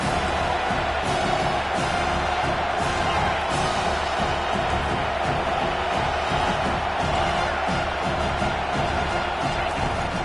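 Video game stadium crowd in Madden 21 American football, a steady dense roar of cheering and whoops filling the whole stretch at constant loudness, with faint talk mixed under it.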